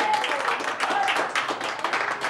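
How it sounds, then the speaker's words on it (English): An audience claps its hands in praise, giving a brief, dense patter of applause with faint voices mixed in. "Give him a hand clap of praise."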